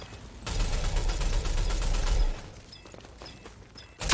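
Gunfire in the video game Rogue Company: a dense burst of rapid shots lasting about two seconds, then quieter scattered game sounds and a final sharp hit.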